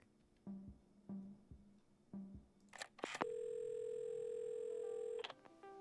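In the video game Assemble with Care, a phone is dialed with a few soft beeps and clicks, followed by a long steady ringing call tone that stops after about two seconds.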